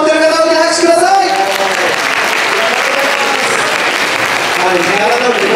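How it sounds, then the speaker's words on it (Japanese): An audience at a Christmas market in Expo Commemorative Park, Osaka, claps loudly and continuously. Sung or sustained musical tones fade out early, and a voice speaks faintly beneath the applause. "今日のこの万博記念公園のクリスマスマルシェ、一日楽しもうと思っている方に拍手ください"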